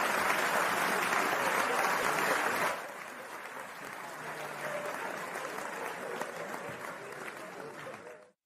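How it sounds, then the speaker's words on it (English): Applause from a podcast audience, a loud dense burst of clapping for about three seconds that then drops to a softer, steady patter before fading out. "Let's give him a little round of applause"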